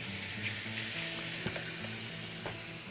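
Bacon frying in a pan, its fat rendering out into a steady, close hiss of sizzling with faint crackles and low background hum throughout, no voices.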